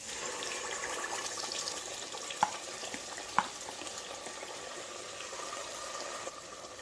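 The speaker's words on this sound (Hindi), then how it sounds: "तेल गरम हो चुका है, इसमें पिसा हुआ मसाला पेस्ट डाल देते हैं।" Ground masala paste for a South Indian fish curry fries in a few spoonfuls of hot oil in a bowl, giving a steady close sizzle with two brief sharp pops partway through and no voices.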